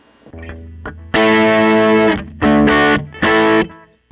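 A Teye Coyote electric guitar with its regular tone plays distorted chords, a few short hits, then a long sustained chord and two more ringing strums, loud and alone.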